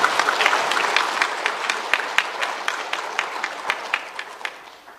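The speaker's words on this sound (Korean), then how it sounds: "우리 에바다 찬양대를 위해서 격려의 박수 한번 해볼까요?" A church congregation applauds the Ephphatha choir at a dedication service: loud, crisp applause with many distinct claps that holds strong, then gradually thins and fades over five seconds.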